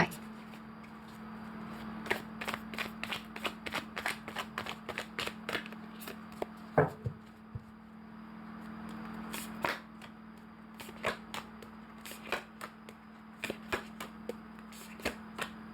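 Oracle cards being shuffled by hand, a long run of quick riffling flutters and soft slaps in bursts, near and fairly quiet, with a brief pause midway.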